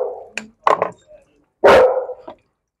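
A dog barks in two short bursts and then once more, louder and longer, close by, with a human voice speaking in between.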